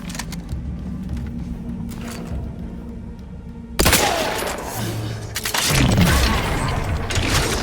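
Gunshots in the video game The Outer Worlds 2: two loud, punchy blasts a couple of seconds apart over a low ambient game hum, with no talking.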